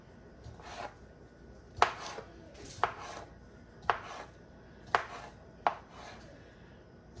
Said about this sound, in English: let's get into cutting this smoked sausage